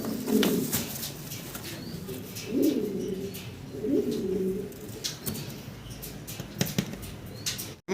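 Fancy pigeons coo softly in short bursts, with a few wing flaps and rustles, close by in a continuous low background murmur.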